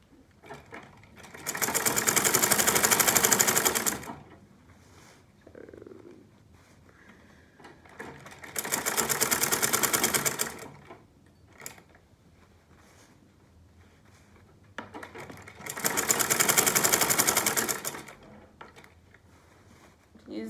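A sewing machine stitching fabric for a buba garment, three loud sustained runs of rapid whirring stitches of about two to three seconds each, separated by quiet pauses with faint handling noises.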